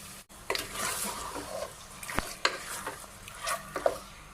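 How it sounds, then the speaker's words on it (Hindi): Chicken pieces sizzle in a hot pan with onion and ginger-garlic paste while a utensil stirs and scrapes against it in irregular strokes, close and fairly quiet. "अभी इनको अच्छे से मिक्स करेंगे और अच्छे से इनको जो है फ्राई करेंगे"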